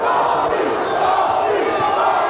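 A wrestling arena crowd cheers and roars, a dense sustained wall of shouting voices that stays loud and steady throughout.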